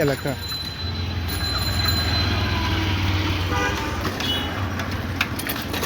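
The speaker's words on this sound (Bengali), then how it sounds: "railway station new market" Train at a railway station in the New Market area of Chittagong, a loud continuous rumble with a long horn toot and a brief higher honk over busy street noise, heard up close.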